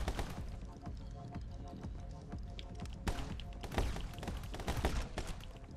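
Gunshots in the action video game My Friend Pedro, scattered sharp cracks and thuds over a dense, busy game soundtrack, fairly loud, with a few louder shots near the end.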